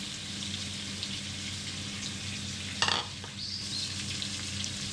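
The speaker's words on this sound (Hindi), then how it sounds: "एहतियात से इसे फ्राई कर लें" Frozen koftas fry in hot oil with a steady close sizzle and hiss. A brief scrape or clatter sounds partway through, with no talk.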